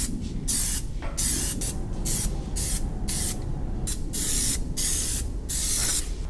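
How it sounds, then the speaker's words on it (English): Black Plasti Dip rubber coating hisses from an aerosol can onto a truck grille insert in a series of short and longer bursts with brief gaps, close and steady, with no voices. "I'm just going to do some coats of plastic dip, black plastic dip, so that everything matches"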